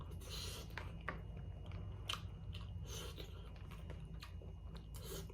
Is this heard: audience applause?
no